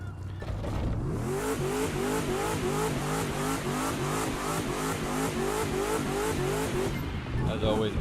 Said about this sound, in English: burn the tires till they are in the green zone